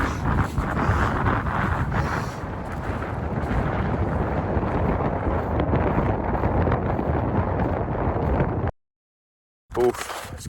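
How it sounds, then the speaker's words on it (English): Strong gusting wind high in the remote Scottish Highlands in winter, roaring and buffeting hard against the microphone with rumbling surges, continuous until a sudden brief cut to silence before it returns. "It must have been gusting mid-30s, maybe 40 mile per hour winds."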